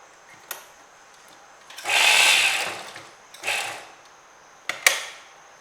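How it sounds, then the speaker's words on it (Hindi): Sewing machine stitching a collar onto a gown's jacket neckline, heard as a few short runs of motor whir: one longer burst, then a briefer run and a couple of quick clicks, moderately loud with no talking. "तो हम यहाँ से बिल्कुल बराबर रखते हुए सिलाई लगा लेंगे।"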